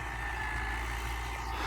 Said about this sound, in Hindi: 640-85 HP अलगाजी में ट्रैक्टर है।